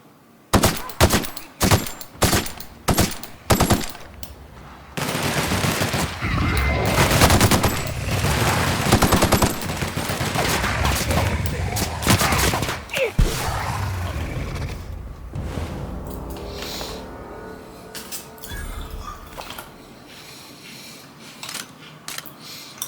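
Rapid bursts of automatic gunfire from a weapon in The Outer Worlds, opening with a string of sharp separate shots, then a long dense sustained volley, thinning into scattered clatter and fading toward the end.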